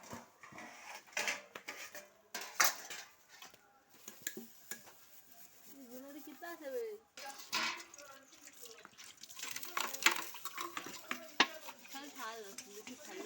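Dishes and pots are scrubbed by hand with cleaning powder at home, giving irregular close scraping, clinking and splashing bursts of water with pauses between, while people talk intermittently.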